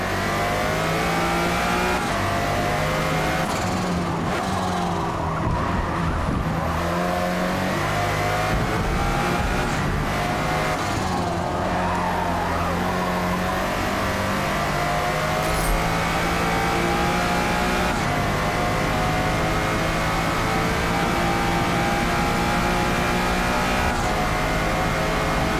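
Lotus Esprit engine howling around the Spa circuit in Forza Motorsport, a loud continuous drone rising and falling through gear changes and revs for the whole lap stretch, with no speech over it.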